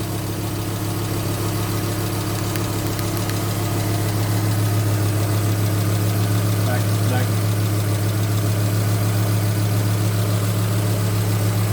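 A Volvo 850 engine idles steadily with a low, even rumble throughout after sitting unused for seven years, while a voice briefly speaks over it.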